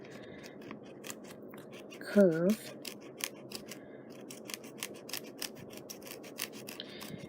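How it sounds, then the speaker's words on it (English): Scissors snipping through scrapbook paper for a bird-themed memory book, a short crisp cut of two or three closed-up snips standing out over a faint rustling background, with a quiet voice talking throughout. "I just had to kind of clip this off with the scissors right here"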